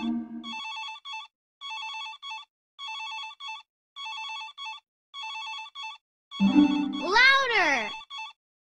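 Cartoon telephone ringing in a Dora the Explorer kids' episode, a bright electronic ring in evenly spaced repeating bursts, with a cartoon voice briefly talking over the ringing near the end.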